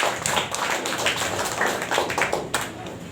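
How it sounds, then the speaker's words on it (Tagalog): A congregation claps together at a prayer service, a steady, dense patter of many hands that stays fairly even from start to finish, with no clear speech over it. "bigyan ng malakas sa palakpak ang ating mga Panginoon"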